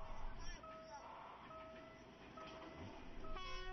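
A special passenger train approaches on a railway near Shenyang, its long faint horn tones sounding over a steady low rumble of the moving train, with a brief clatter near the end.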